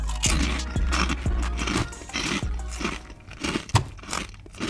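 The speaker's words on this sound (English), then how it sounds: "So most of the times I eat a whole bag of pork rinds." Close, loud crunching of crisp pork rinds being bitten and chewed, repeated bites with crackly chewing between them.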